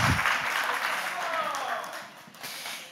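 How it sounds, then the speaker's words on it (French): Audience applause at a French-language TV show with children present, a sustained wash of clapping with voices mixed in, fairly even in level. "on les applaudit bien fort."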